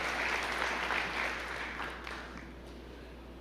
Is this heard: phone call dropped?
no